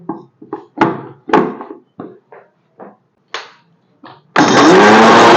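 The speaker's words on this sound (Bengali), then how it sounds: "একটু গুঁড়িয়ে নিই" An electric grinder crushing whole garam masala spices, preceded by a series of sharp clattering knocks as spices are dropped in, then the motor roaring loudly and steadily for the final second.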